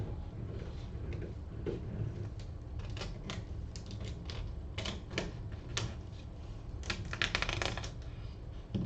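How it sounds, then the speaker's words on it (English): Masking tape peeled off a speaker surface in short, sharp ripping bursts, a string of quick crackly pulls with brief pauses between them, close and fairly quiet, with no talking. "Tape's being pulled off."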